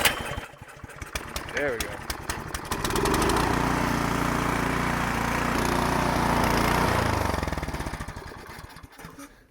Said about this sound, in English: I was gonna see if it was gonna start up on the first go.